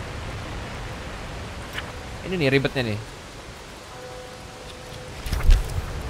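Rain falls in the Hobo Tough Life video game as a steady, soft hiss that fills the background while someone talks over it in short bursts.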